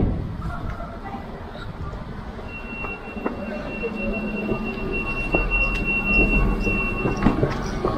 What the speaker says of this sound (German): Das sind diese portugiesischen Züge.